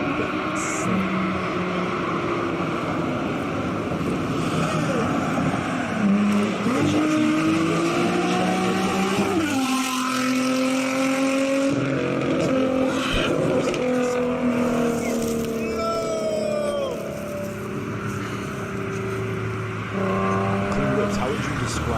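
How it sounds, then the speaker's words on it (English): A Nissan 350Z with a VQ engine revs its exhaust repeatedly, a loud rising and falling engine howl through several gear changes, with a voice talking over part of it. "let you hear that VQ trumpet sing"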